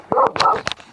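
Dogs along a mountain national road bark in a quick cluster of short, sharp yips and woofs, fairly close and loud, over a second of rough outdoor noise.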